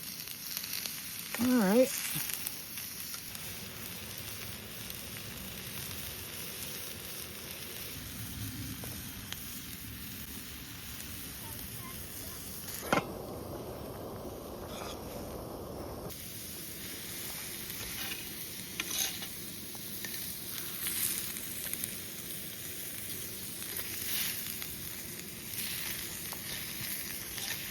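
Steaks sizzle on a hot rock at a freezing winter camp in the Rocky Mountains, a steady hiss running throughout with a brief scrape and a short burst of louder frying when they are flipped.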